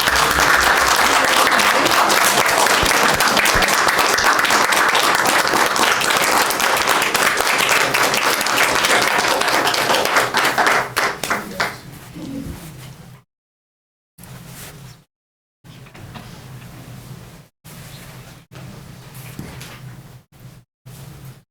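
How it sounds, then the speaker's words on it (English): Loud, sustained audience applause at a town council meeting, dense clapping for about ten seconds that then tapers off into scattered claps and quiet room noise. "I think that deserves an applause."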